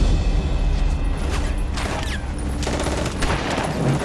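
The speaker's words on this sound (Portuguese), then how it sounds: "Continuem atirando!" Scattered gunfire from a WWII beach landing battle scene, dense cracks and rumbling blasts blending into a loud, continuous din with no clear voices.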